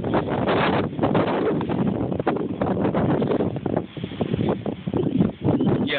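Strong winter-storm wind gusting through a snowstorm in Minneapolis, a steady broadband roar with buffeting against the microphone, loud and continuous throughout with no talk.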